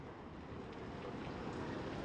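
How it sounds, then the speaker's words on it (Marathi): Heavy rain falling outside a house, a dense, even hiss of steady downpour with no breaks, fairly faint and with no speech over it. "आणि फुल पाऊस पडतोय बघा"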